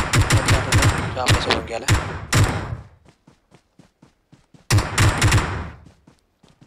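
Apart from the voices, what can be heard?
enemy gunfire in a video game match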